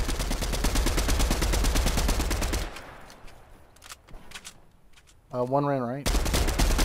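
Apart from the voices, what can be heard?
gunfire in the video game Fortnite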